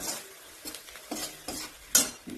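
Masala with peanuts sautéed in a pan: a handful of quiet, evenly spaced stirring scrapes over a faint sizzle, with one sharper clink near the end and no voices.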